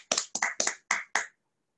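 Five distinct claps spaced about a quarter second apart, close and crisp, applause for team members at a health awareness program, with no voices over it.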